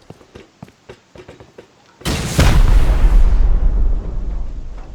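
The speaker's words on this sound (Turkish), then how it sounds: "Buna bir tane roket atacağım." A rocket strikes a base in the game Rust: faint clicks and small taps lead into a sudden loud, roaring blast that rumbles heavily for about a second before easing into a sustained lower roar.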